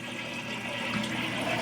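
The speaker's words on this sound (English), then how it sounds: "I'm just going to flush it so you can see the dye rush" A toilet with a Scrubbing Bubbles blue drop-in tablet in the tank flushes in a steady, loud rush of water that runs throughout without pause.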